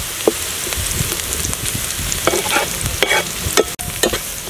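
Garlic sizzles in hot oil in a pan, a steady crackling fry broken by scraping stirs and clicks of a utensil against the pan, close and alone.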